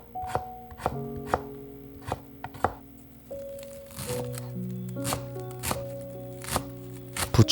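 Knife strokes cut radish into thick julienne strips against a wooden board, landing in an uneven rhythm of sharp taps, close and fairly loud, with faint background tones.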